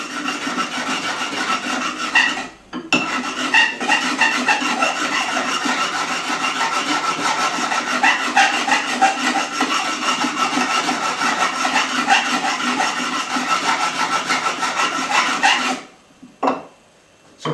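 A steady, rasping scrape of a metal card scraper drawn across a coarse sharpening stone at about 45 degrees, continuous for long stretches with two brief pauses.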